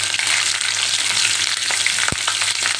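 Whole cumin and green chillies fry in hot oil for sabudana khichdi, a continuous close sizzle with a single sharp tap partway through and no speech.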